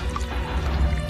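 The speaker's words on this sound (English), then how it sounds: "There's blooming water coming in!" Seawater pours and gushes into a ship's flooding rooms aboard the Titanic, a close, steady liquid rush with dripping and splashing and no voices.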